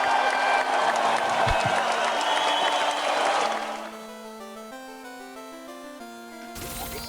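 A short applause sound effect with crowd cheering plays loudly, then cuts to a plinking electronic melody as the clapping fades.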